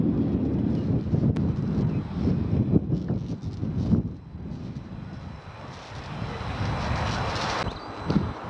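Wind gusting across a golf course at Gonubie Golf Club, a constant low rumble and buffeting against the microphone that rises and eases in gusts over several seconds.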